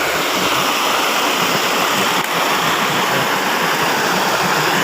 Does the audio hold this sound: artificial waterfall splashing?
yes